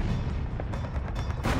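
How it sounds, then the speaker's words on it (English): US 105mm and 155mm howitzer artillery fire pounding ridges and buildings, a dense rumbling barrage of booms with a sharper blast near the end, loud and continuous. "2 miles away, U.S. gunfire tears the ridges and buildings of Troina to pieces."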